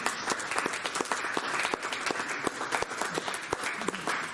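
An audience at a constitutional amendments workshop breaks into steady applause, a dense patter of many hands clapping at close range with sharper individual claps standing out, sustained evenly throughout.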